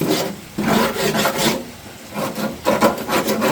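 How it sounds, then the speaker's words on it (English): A wire brush and scraper scour rust off the metal firebox of a Masterbuilt 800 smoker in loud, close, rasping strokes that come in uneven bursts with short pauses between them. "took my old wire brush with a scraper and went down through here and cleaned off some of this rust"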